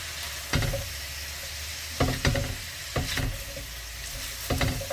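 Carrots and broccoli stir-fried with thinly sliced beef in a pan, a steady loud sizzle broken by four sharp bursts of stirring and tossing, with no voices.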